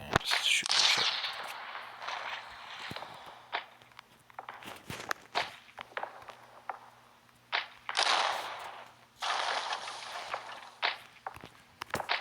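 Gunfire aimed at a ship during a Russian Civil War battle in the game Pixel Soldiers: The Great War, scattered cracks and pops mixed with bursts of noisy rumble, fairly faint and irregular, with no talk.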